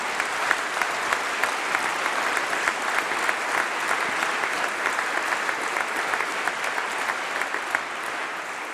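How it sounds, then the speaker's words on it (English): Sustained applause from a large audience at a university winter congregation, honouring doctoral graduates; steady, dense clapping with no talk over it throughout. "I think they deserve a huge round of applause to all our doctors."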